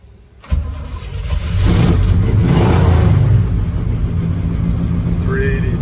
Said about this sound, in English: We're going to start up our 69 Chevy C10 four-wheel drive